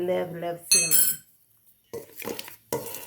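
Utensils clink and scrape in a bowl while coconut flour bread ingredients with cinnamon are mixed, sharp clinks coming in short bursts separated by pauses.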